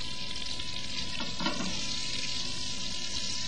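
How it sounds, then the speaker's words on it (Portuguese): Steak frying in a pan with crushed garlic and a bay leaf, a close, steady sizzle and crackle with a short burst of stirring or spattering midway. "Adicionamos o alho esmagado e a folha de louro, deixando fritar tudo em conjunto."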